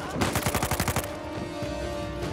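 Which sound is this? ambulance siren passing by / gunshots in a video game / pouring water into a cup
gunshots in a video game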